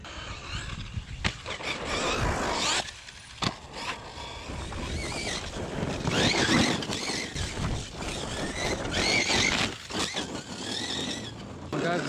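A Traxxas Sledge RC truck with a failing differential whines and grinds as it is driven in rough, uneven bursts, close and fairly loud, with a person talking intermittently nearby.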